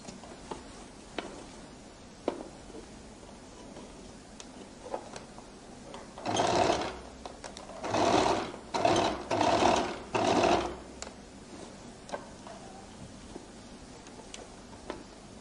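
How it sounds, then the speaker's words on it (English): A sewing machine stitches a flared skirt in four bursts of running, the middle ones close together, close by with a faint background between them. "I roll it open and I now begin to stitch."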